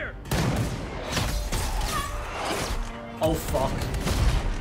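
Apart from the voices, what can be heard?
gunshots in Money Heist TV show scene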